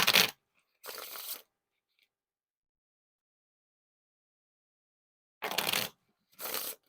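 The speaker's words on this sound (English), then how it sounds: "And now time for the wiffle shuffle or bridge shuffle." A deck of thick-stock Pink Quartz playing cards by Cactus Playing Card Co. is riffle shuffled and bridged twice. Each pair comes as a crisp, close rattling riffle followed by a softer cascade, separated by several seconds of silence.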